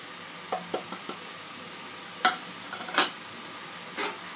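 Garlic and ground spices (turmeric, chilli, coriander, cumin, chicken masala) frying in a pan, a steady soft sizzle with a few sharper stirring scrapes and clinks scattered through.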